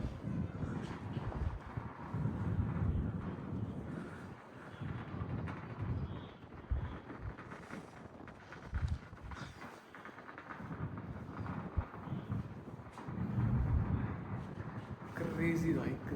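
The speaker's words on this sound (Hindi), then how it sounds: "यहाँ इतनी तेज़ हवा चल रही है ना" Strong wind roars and buffets the microphone in heavy gusts, with someone speaking over the rumbling noise.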